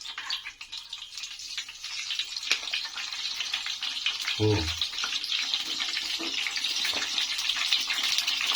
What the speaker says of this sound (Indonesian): Ini untuk minyaknya udah lumayan panas, jadi boleh kita masukin tempenya satu persatu.